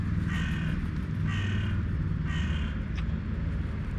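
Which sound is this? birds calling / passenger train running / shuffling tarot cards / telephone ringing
birds calling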